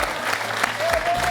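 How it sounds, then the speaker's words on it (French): A TV quiz show studio audience breaks into brief, loud applause, dense clapping throughout with a faint tone in the background. "Et tonnerre d'applaudissements pour nos deux candidats."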